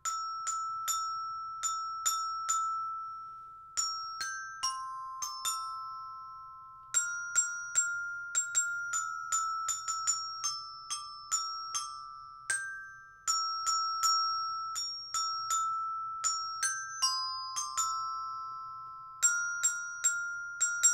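Colored handbells ring out the Jingle Bells melody, each strike bright and clear and fading quickly, in a steady rhythm with no talking, at a children's holiday music session in a library.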